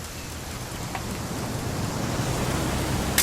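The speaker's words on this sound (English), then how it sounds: "It's gonna rain the whole weekend, isn't it?" Steady rain hisses throughout in the video game What Remains of Edith Finch, a dense wash of falling water without pauses, fairly loud and close, ending on a brief sharper burst.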